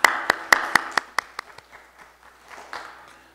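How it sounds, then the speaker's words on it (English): A church congregation claps along in a hymn, sharp distinct hand claps in a quick rhythm that slows and grows fainter until scattered light taps remain. "Let's clap our hands for Jesus."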